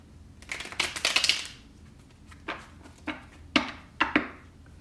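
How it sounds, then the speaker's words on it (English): A deck of tarot cards being shuffled: a quick riffling burst up close, then several separate sharp taps and knocks as the cards are squared and handled, with no talking. "You guys saw me shuffle."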